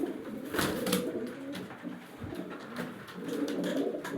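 Dumar Egdar pigeons cooing nearby, a series of low throaty coos rising and falling in short phrases with soft rustling between them.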